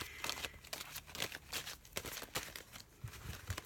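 Tarot cards being shuffled by hand, a steady run of crisp riffling and papery crinkling bursts, close and moderately loud, with no talking.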